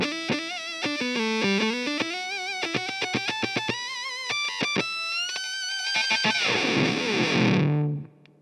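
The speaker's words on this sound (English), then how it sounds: "I was obsessed with the idea of having an octave fuzz in my rig" A heavily fuzzed electric guitar plays a quick melodic riff with a buzzy doubled-octave tone, ending in a loud distorted chord that cuts off abruptly.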